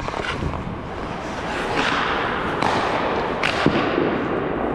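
Ice hockey pucks are struck by sticks during a screen-tracking shooting drill, making sharp slaps and thuds against a steady rink noise, several hits over a few seconds with no talk.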